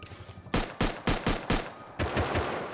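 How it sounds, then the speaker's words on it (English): Gunfire in the survival game Rust during a raid: five sharp, loud shots in a fairly even rhythm, then a denser burst of rapid fire at the end, with faint background noise before the first shot. "This guy's shooting."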